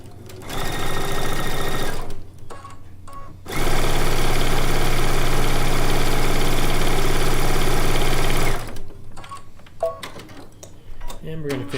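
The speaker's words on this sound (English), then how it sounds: "Then we're going to sew this one on." A sewing machine stitches cream-and-print quilt strips for a blue and white quilt top. It runs in a short burst and then a longer steady buzzing run, close and loud, with quieter handling noises between.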